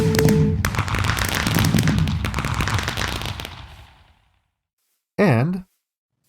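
A video game fireworks display set off with a fire button: a dense volley of crackling, popping bursts for about four seconds fades to silence, followed by a short rising whistle.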